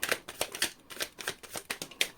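Quick, soft riffling of cards in close succession, a rapid papery flutter repeating several times, close and fairly quiet with no talking.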